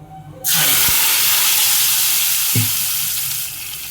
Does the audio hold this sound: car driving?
no